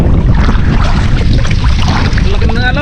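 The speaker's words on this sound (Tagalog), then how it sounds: "Laki ng alon." Big waves churn around a small boat on a river, a loud, continuous rush of water and buffeting wind close to the microphone, with no voices in between.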